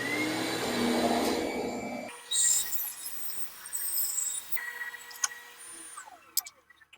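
Bandsaw cutting the back off a wooden bandsaw box, a steady buzzing cut for about two seconds that stops, followed by the blade winding down, rattles and small knocks.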